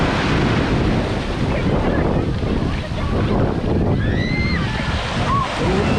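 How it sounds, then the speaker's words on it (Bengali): Sea waves on a blue-water beach near Kolkata, a loud continuous wash of surf mixed with heavy wind buffeting the microphone, with faint distant voices and a few high whistle-like tones toward the end. "সমুদ্র"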